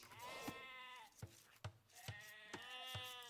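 Sheep in the real-time strategy game Age of Empires bleat repeatedly, several close, loud, wavering cries in quick succession with brief sharp clicks between them and no talk over them.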